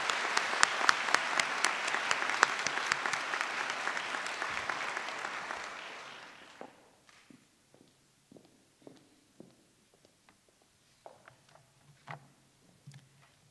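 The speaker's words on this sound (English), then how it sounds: "Please join me now in a round of applause for our mentors." Audience applause at a Doctor of Pharmacy white coat ceremony, a dense sustained ovation that fades out around six seconds, leaving scattered late claps and faint room noise.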